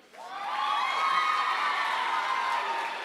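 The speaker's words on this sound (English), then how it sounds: "let's give a round of applause to Tanner Bushman" An audience at the Mr. Vineland 2019 pageant bursts into loud cheering, whooping and shouting, swelling quickly and sustaining a bright crowd roar with some clapping throughout.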